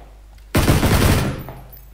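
Automatic gunfire from PlayerUnknown's Battlegrounds erupts suddenly, a dense, loud burst of rapid shots lasting under a second before fading away.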